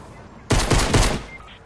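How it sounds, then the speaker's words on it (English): A rapid burst of automatic gunfire in Fortnite erupts suddenly and loudly, a dense string of close shots lasting under a second before cutting off into quiet game ambience. "He just shot me on purpose, though."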